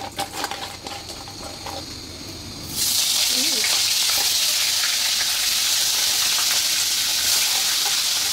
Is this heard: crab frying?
yes